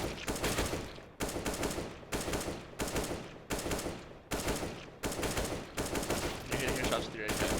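AK rifle in the video game CS:GO fired in single taps, about nine loud sharp shots evenly spaced, each with a short decaying tail.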